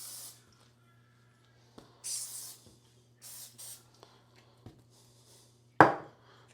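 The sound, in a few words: cooking spray sprayed onto dough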